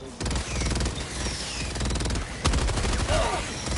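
Rapid automatic gunfire from big guns in a video game, a dense loud burst that runs throughout with a few heavier hits near the end.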